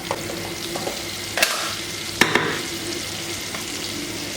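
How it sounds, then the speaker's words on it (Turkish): Butter melting in a pan for lentil soup with broccoli, with red pepper powder: a steady close sizzle and hiss, broken by a few sharp utensil taps against the pan. "1 yemek kaşığı dolusu tereyağı ilave edip eritiyorum"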